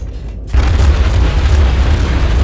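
Heavy naval shell impacts and explosions in World of Warships, a deep booming blast rolling in suddenly after a quieter moment and sustaining a loud, rumbling roar.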